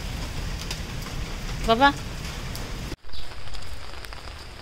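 Rain falling steadily outdoors during a village visit, a constant patter under brief voices and a short cry, interrupted by a sudden bump and a moment of silence before the rain noise resumes.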